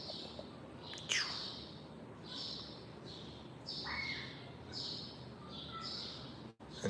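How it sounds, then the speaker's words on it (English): Pet birds chirping from the next room, repeated high, slightly muffled chirps and squawks in short bursts over a steady background hum, at moderate distance. "Everybody can hear my birds that came out of nature and decided to live in the next room."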